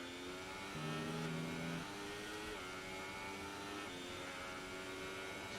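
A Ferrari race car engine in a racing game on the Austria circuit drones through a lap, its pitch rising and stepping between gear changes, steady and moderately quiet with no talk.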